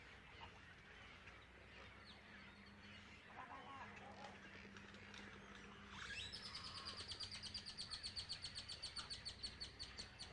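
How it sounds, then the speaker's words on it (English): Snowy egrets calling at a heron rookery on the Galveston, Texas Gulf Coast: a steady outdoor background, then from midway a fast run of rapid, repeated rasping calls, fairly close and loud. "snowy egrets? Best noises ever."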